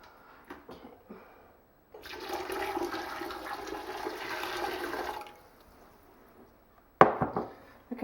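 Hot water pours from a kettle into a jug: a steady, rushing splash of about three seconds, framed by light kitchen clatter and a sharp knock near the end.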